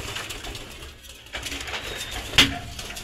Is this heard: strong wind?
no